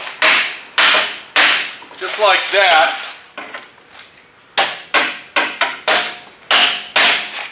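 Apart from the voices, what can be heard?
hammering junkyard car body panel to straighten it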